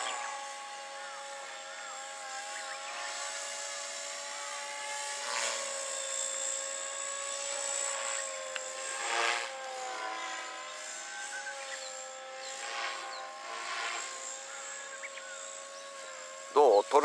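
A GAUI X3 RC helicopter flies on a 6-cell battery, its rotor whine holding steady and high-pitched, then sweeping up and down as it manoeuvres, with a few brief thumps near the end.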